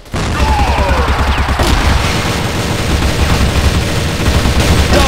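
Loud, dense gunfire and grenade blasts from the video game Crossfire, with rapid overlapping shots and booming explosions sustained throughout after a brief quiet start, no voices over it.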